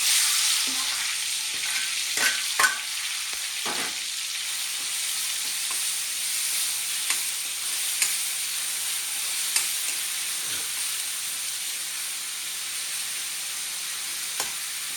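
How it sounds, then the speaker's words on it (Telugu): Spice paste sizzles and fries in hot oil for a Kanagadthalu fish pulusu, a steady bright hiss near the pan punctuated by occasional stirring clinks and pops. "ఆయిల్ పేస్ట్ వేస్తున్నాం."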